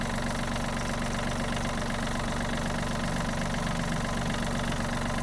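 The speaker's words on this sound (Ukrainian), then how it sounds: "Чистенька робота двигуна." A Yanmar RS-27 mini tractor diesel engine idles steadily close by, a constant low chugging rumble with a dense mechanical clatter and no break.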